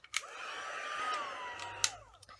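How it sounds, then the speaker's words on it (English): An embossing heat tool blows with a steady, moderately loud whirring hiss for about two seconds while melting powder on a greeting card, with small clicks at the start and end. "So now we can emboss it with our heat tool."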